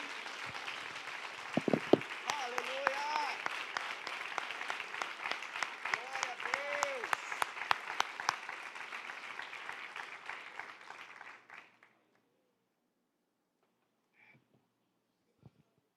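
A church congregation applauds loudly during a Portuguese-language sermon about Daniel. The dense, crackling clapping lasts about eleven seconds and then stops abruptly, leaving near silence with a couple of faint knocks.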